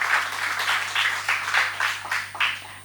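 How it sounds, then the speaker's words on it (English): Audience applause at a school debating event, a moderate crowd clapping steadily for about three seconds with rhythmic swells, heard at mid distance over a low steady hum. "Please, can we have a louder round of applause, please?"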